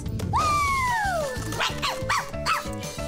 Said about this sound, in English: I don't know what she's barking about